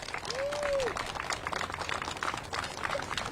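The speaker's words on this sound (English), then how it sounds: "Ladies and gentlemen, a round of applause for the mayor" An outdoor crowd in a park claps for the mayor at an Earth Day press conference, with moderate, steady applause holding throughout and a brief whistle near the start.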